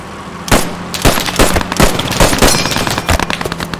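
Loud, close machine gun fire in the World War II shooter game Post Scriptum, with rapid bursts of overlapping gunshots and crackling volleys rattling continuously from start to finish.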